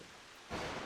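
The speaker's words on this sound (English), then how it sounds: "the fucking rain ASMR on the background" Rain falls steadily as a soft hiss that swells louder halfway through, with no voices.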